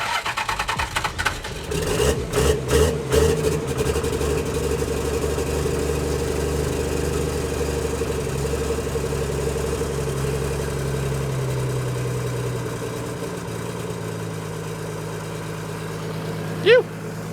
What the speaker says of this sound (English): I just ran the engine for a bit, let the coolant come through the heater core and cycle through